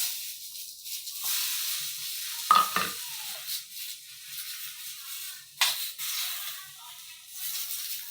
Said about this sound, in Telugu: టమాటా వేపుకున్నాం